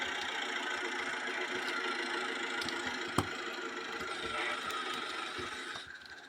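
A farm tractor engine idles steadily in a low, continuous rumble, with a faint knock partway through before the sound fades slightly at the end.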